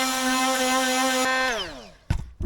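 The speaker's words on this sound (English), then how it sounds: "I'm just going to sand either side of here, and I might be able to put the gel coat on today." A power sander works a gouged groove in the fibreglass hull of a Drascombe Lugger boat, giving a loud steady whine that winds down and stops, followed by a few short scraping knocks.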